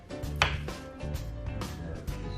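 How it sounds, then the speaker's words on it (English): A knife cuts through cooked potatoes in a run of crisp chopping strikes, a few distinct cuts spread over a couple of seconds. Soft music plays underneath. "And now that I've cooked my potatoes, I just cut them up"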